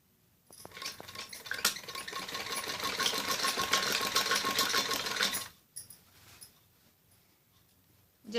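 A sewing machine stitching a kids top runs in one continuous loud whirring burst of about five seconds, then stops, leaving faint handling noise of the fabric.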